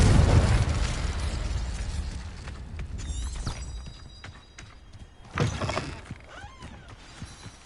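A Confringo spell explodes in Hogwarts Legacy on PS5 with a heavy opening boom, followed by rumbling debris and a second, sharper burst partway through. No voices are heard.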